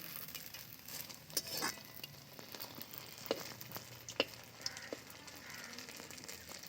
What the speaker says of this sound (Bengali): উল্টিয়ে পাল্টিয়ে সবগুলো ভেজে নেব